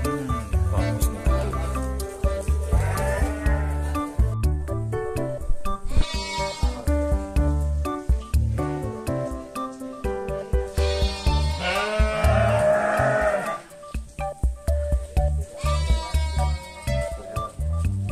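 Merino sheep on a breeding farm in the Dieng highlands, Banjarnegara, bleat repeatedly, some calls close and loud, others overlapping from the flock, with steady rustling and noise throughout.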